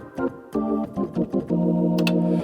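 Hammond XK5 organ chords ring out loud and alone, with the reverb placed after the Leslie simulation giving a big, wide stereo wash; short stabbed chords lead into a sustained held chord.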